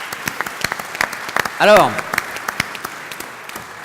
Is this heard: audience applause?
yes